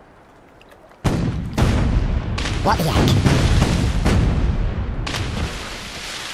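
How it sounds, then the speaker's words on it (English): Cannon fire in the Worms 4 Mayhem video game: several loud booming blasts follow a quiet start, then a dense run of overlapping explosions and game effects, with a voice speaking over them. "Load the cannons, you scoundrels!"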